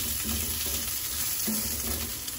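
Pork fat fries in a pan, rendering its grease with a steady, close sizzle and crackle that carries on alone the whole time.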